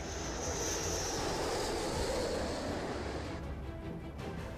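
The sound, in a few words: B-1 bomber aircraft engine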